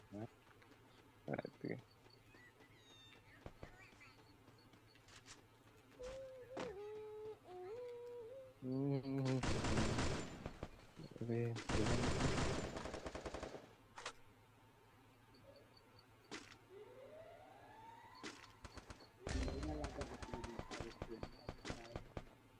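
Automatic gunfire in the Call of Duty Mobile video game comes in several loud, dense bursts of a few seconds each, with a person talking intermittently in between.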